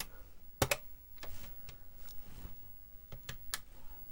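Keys clack on the repaired keyboard of a TRS-80 MC-10 computer, giving a few close, irregular taps with short pauses between them in a quiet room.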